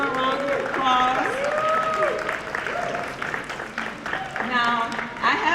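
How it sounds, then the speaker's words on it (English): An audience at a jazz and blues festival applauds a dancer coming up, with steady clapping under loud speech and vocal calls from the crowd throughout. "Give Lisa a round of applause."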